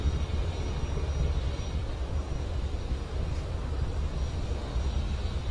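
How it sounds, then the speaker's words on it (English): A SpaceX Falcon 9 rocket launching from Space Launch Complex 40 at Cape Canaveral, heard as a steady, broad, distant roar that rumbles on without breaks while the rocket goes supersonic. "We've launched from Space Launch Complex 40 at Cape Canaveral."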